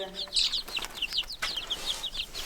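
A flock of hens clucks in a farm setting, with quick, rhythmic, slightly distant bursts repeating steadily over a quiet background.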